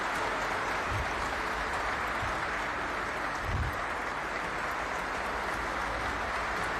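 Continuous applause filling a large hall at Rashtrapati Bhavan, India, a dense, even roar of clapping that holds steady throughout.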